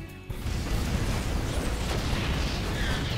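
A Thor unit being destroyed in StarCraft II, heard as a sustained, loud, rumbling blast and crash of explosions filling the clip after a brief quieter start.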